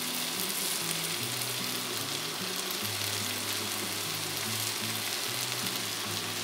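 Cabbage with tomato paste frying in a pan, a continuous moderate sizzle with low tonal hum underneath, steady from start to finish with no talking.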